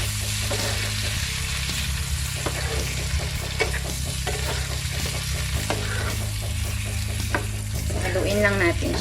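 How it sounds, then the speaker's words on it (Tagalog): Shrimp frying in garlic butter in a pan, stirred repeatedly over medium heat; a steady close sizzle runs throughout, with scraping utensil strokes and a low hum underneath, and no talking. "Dahil brownish na siya, I'll put in our shrimp."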